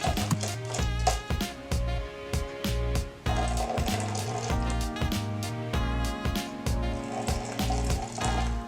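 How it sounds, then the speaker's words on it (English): Hot water at 180 to 190 degrees is poured over coffee grounds in a French press, making a steady, close liquid filling sound with a rhythmic gurgle, continuous for several seconds. "pour your water that is 180 to 190 degrees over the coffee grinds"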